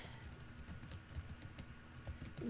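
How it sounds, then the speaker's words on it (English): Close, quiet keyboard typing fills the moment, a steady stream of light clicks as text is entered on a computer to make a QR code, with no voices over it. "I am going to type in here"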